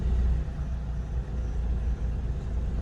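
A car idles and rumbles as it turns around on a quiet forest road in Kalagarh Tiger Reserve, a steady low engine drone heard from inside the vehicle, with no talking.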